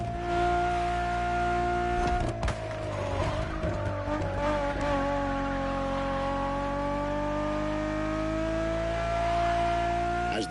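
A Ferrari Enzo supercar engine holds a loud, sustained high-pitched howl that dips and rises again, with a brief rougher burst partway through, heard close and alone.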